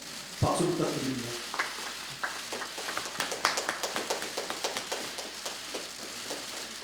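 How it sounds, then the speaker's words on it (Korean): An audience at a Democratic Party recruitment event applauds after a brief voice, with many claps rising into a steady, moderately loud patter that gradually thins out. "박수 부탁드립니다."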